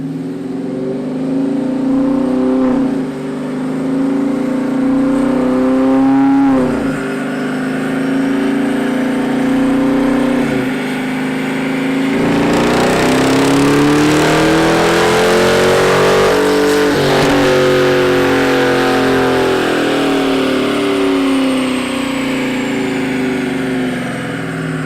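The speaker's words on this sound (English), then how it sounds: "It's just another dyno run where he goes through the gears and then steps on it to create power." A 2017 Dodge Charger Daytona R/T on a dyno, its engine revving hard through the gears with loud, sustained roaring climbs in pitch, brief drops at each shift, and a final long pull, steady and close without voices.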